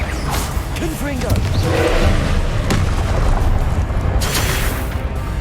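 Confringo fire spell from Hogwarts Legacy bursting in a loud, dense game explosion with booming low rumble and whooshing debris, mixed with other combat effects while a voice talks over it.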